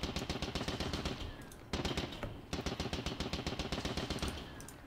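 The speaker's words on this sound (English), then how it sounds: "And then we'll machine gun this unit." Rapid machine gun fire in a Battle of Mons video game, steady rattling bursts of closely spaced shots with brief pauses between volleys, loud and continuous throughout.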